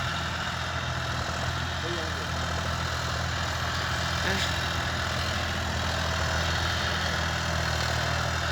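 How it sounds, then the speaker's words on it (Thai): A John Deere 5065E farm tractor engine runs at a steady idle, close by, as a constant low rumble and hum with no breaks. "พลังของจอนเดียค่ะ พลังของจอนเดีย ห้าศูนย์หกห้าอีค่ะ"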